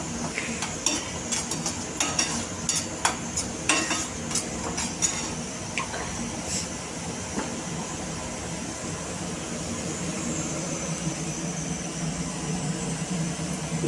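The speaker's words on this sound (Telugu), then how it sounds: "ఇది అల్లం వెల్లుల్లి అల్లం ఉల్లిపాయ పేస్ట్ వేస్తున్నాం. పచ్చివాసన పోయే వరకు అల్లం వెల్లుల్లిపాయ పేస్టు." Ginger-garlic and onion paste fries in a pan for an Andhra-style prawn fry, a steady low sizzle with a cluster of sharp clicks and stirring scrapes early on that settle into an even hiss.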